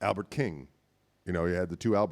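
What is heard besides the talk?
No everyday noises stand out.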